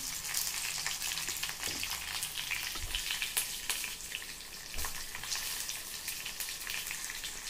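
Stuffed green chillies (bharli mirchi) fry in spiced oil on a low flame, a steady broadband sizzle with a few soft knocks as the pan is stirred and covered, continuous and close with no talking.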